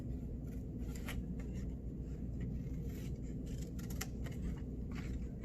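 Scissors cut slits into a rainstick tube, making several short, crisp snips over a steady low hum.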